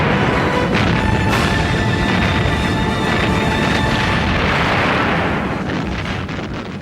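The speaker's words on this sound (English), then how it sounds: "Henderson Field now came under bombardment from land and from the 14-inch guns of the battleships Congo and Haruna" Battleship 14-inch guns of the Kongo and Haruna bombard Henderson Field in a loud, continuous wall of booming blasts and rumble that thins out near the end, with no voices.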